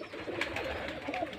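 Rajshahi Giribaj pigeons coo softly at a pigeon farm, a steady low murmur of overlapping calls with no clear pauses, heard close by.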